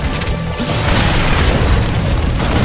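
A Baneling is shot and bursts in a StarCraft II match, a loud, dense blast of noise with a deep rumble that fills the short moment without any talk.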